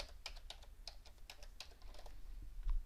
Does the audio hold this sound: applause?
no